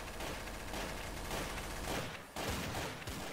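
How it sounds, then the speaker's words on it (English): Dense machine-gun fire from a video game rattles continuously as a fusillade, loud and close, with a brief dip before the firing resumes. "Ignore the machine gun shots."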